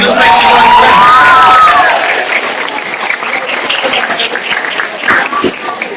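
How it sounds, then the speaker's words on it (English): Loud crowd applause and cheering for teachers at a school welcoming ceremony, opening with shouts and whoops over clapping, then settling into steady applause from a large audience. "Let's give your teachers a big round of applause."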